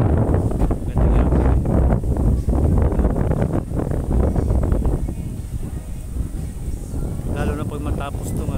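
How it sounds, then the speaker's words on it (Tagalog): Gusty wind buffets the microphone in an open harbor square beside moored yachts on Manila Bay, a loud continuous rumble that eases slightly toward the end. A voice talks in short phrases over it. "Mahangin dito ang lugar."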